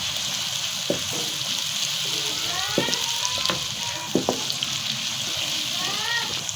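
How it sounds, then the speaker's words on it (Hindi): Onions frying in ghee in a kadhai, a loud continuous sizzle with repeated stirring scrapes and clinks throughout, no talking. "अभी ये देखिए हमारा प्याज ब्राउन हो रहा है"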